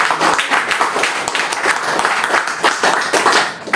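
An audience at a business talk in a branch office claps loudly and steadily for a few seconds, a dense crackle of many hands filling the room.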